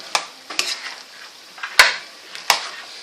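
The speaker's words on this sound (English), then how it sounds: "Took out the lid, now let's stir it." A spatula scrapes and clacks in a pan as chicken, cauliflower and carrots are stir-fried, giving four distinct stirring strokes over a faint sizzle.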